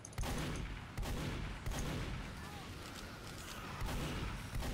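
Gunfire in the video game Team Fortress 2, with repeated loud shots and bursts close together over a busy battle background, and voices partly heard in the mix.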